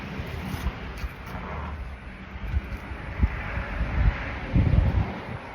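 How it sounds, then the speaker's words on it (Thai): Strong cold wind gusts through trees in a small garden beside open rice fields, a steady broad rushing roar with microphone buffeting and rustling that swells toward the end. "ต้นไม้กระจุยกระจายลมแรงมาก"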